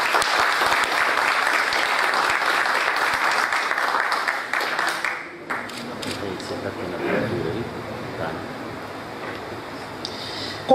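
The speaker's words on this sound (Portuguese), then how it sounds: "Uma salva de palmas para ele." Applause at a formal heraldic society opening ceremony, a dense sustained burst of clapping filling the first five seconds before fading out, followed by a quieter room with speech.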